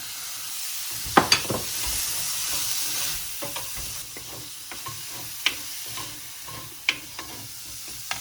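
Corn kernels frying in a pan: a steady bright sizzle runs throughout, broken by sharp scraping stirs and occasional pops, close and fairly loud, with no talking.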